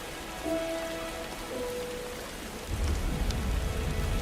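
Steady rain patters and drums on a worn metal robot shell, a dense close hiss with faint tonal hums early on and a heavier low rumble swelling in near the end.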